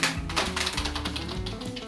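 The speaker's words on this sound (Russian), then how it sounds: "Вот эта клавиатура" Typing on a keyboard built from junk parts: rapid, loud, clattering keystrokes in an uneven burst, close up, with no voices.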